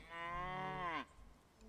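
A single drawn-out cow moo from the video game Bellwright, loud and close, holding steady for about a second before dropping off sharply into quiet background.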